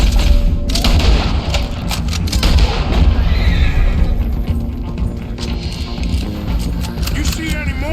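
Horses neigh and whinny in the Red Dead Redemption 2 video game, loud and close, with thumps and booming game sounds over a steady bed of noise.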